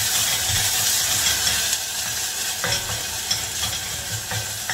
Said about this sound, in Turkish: İyice karıştırıyoruz şöyle.